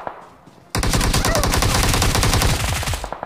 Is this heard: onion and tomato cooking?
no